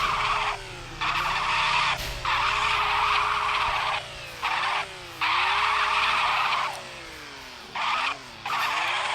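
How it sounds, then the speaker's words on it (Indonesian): A car drifts in the Roblox driving game CDID, with long, loud tire squeals in repeated bursts over a steady engine drone, the screech pitch sliding up and down as the car slides. "saya masih belajar ngedrift ya"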